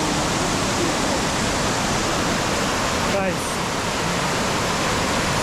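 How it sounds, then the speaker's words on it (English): Steady, loud roar of a man-made waterfall at Silwane Nature Reserve near Bulawayo, a dense continuous rush heard close up, with a voice briefly calling out over it. "Silwane, waterfall."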